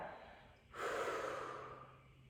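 One long, breathy exhale during a mat Pilates exercise, starting suddenly after a brief quiet moment, holding steady and then slowly fading, close to the microphone.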